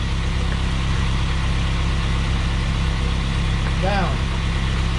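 A Spartan Urban Warrior hydro jetter engine idles in a steady, even drone that runs throughout, with a brief squeal or chirp near the end.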